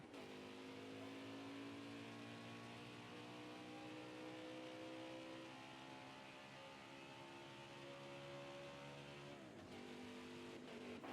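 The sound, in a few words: race cars on track in video game NASCAR Heat 2003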